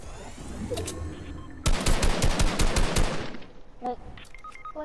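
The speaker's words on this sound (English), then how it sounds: "somebody's shooting at your staircase!" Video game gunfire rattles at a staircase: a rapid burst of close, loud shots with several more cracks trailing off, then faint scattered sounds.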